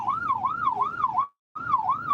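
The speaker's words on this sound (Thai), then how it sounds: "หลบหลบให้ทางรถก่อนนี่รถไซเรนมานะ รถไซเรนมานะฮะ" An emergency vehicle siren wails on the road in a rolling up-and-down tone, cutting off briefly and then resuming, loud and close.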